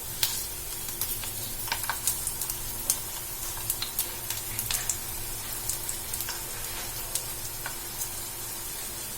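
A homemade snack sizzles steadily in hot oil in a pan, with crisp crackling pops scattered over a continuous frying hiss, close and moderately loud.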